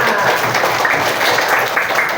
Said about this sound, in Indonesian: Tepuk tangan buat Firman.